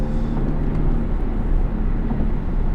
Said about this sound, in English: You can just about hear the rasps coming from the exhaust, which is nice.